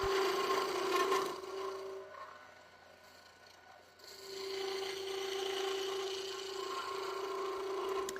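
Hand tool taking heavy shaving cuts on wood while shaping a spurtle, a steady close rasping scrape that pauses briefly in the middle then resumes, with no talk.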